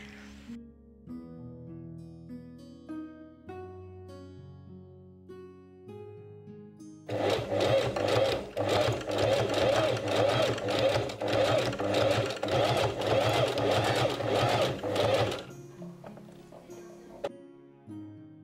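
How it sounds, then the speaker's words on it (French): A sewing machine fitted with a zipper foot stitches a corset top in a fast, rhythmic run of several seconds, preceded by soft handling noises and music-like tones and followed by quieter fabric movements. "je vais venir coudre à quelques millimètres du centre en utilisant un pied pour fermeture sur la machine"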